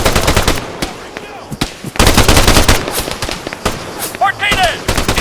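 Sustained automatic weapon fire in the military shooter ARMA III, rapid loud bursts of machine gun rounds broken by short pauses, with a shouted voice briefly calling out over the gunfire.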